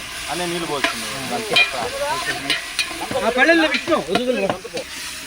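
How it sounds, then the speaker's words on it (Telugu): Food sizzles as it fries in hot oil until browned for biryani, a steady hiss and crackle running underneath a person talking throughout. "చూడండి ఈ విధంగా బాగా ఎర్రగా వేయించుకోవాలి."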